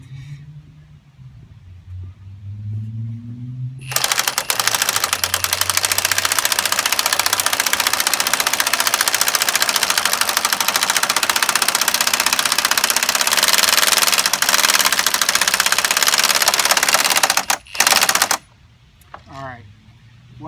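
A power tool drives a spring compressor on a third-generation Camaro control arm, whirring in a loud, continuous, buzzing run on its high setting for about thirteen seconds, then stopping with a short burst before quieting; a voice speaks briefly before it starts.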